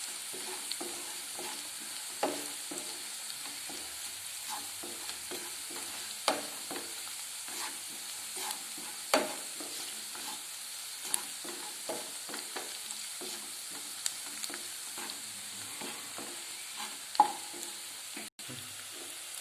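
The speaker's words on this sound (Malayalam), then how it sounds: "ഇനിയും കാശ്മീരി ചില്ലി പൗഡർ ചേർക്കുക. നന്നായി കൂട്ടി യോജിപ്പിക്കുക." A spoon scrapes and taps repeatedly as Kashmiri chilli powder is stirred into a frying tomato masala, with a soft, continuous sizzle underneath and no voices.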